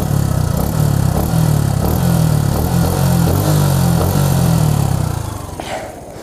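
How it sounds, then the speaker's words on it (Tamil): Exhaust of a Suzuki Gixxer SF 155 BS6 motorcycle at idle, a close, throbbing rumble with a regular beat that fades away near the end. No one talks. "ஸோ இது வந்து எக்ஸாஸ்ட் சவுண்ட் கைஸ்."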